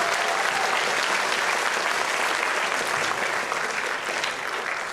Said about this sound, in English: can we please give it a round of applause for our performers and directors?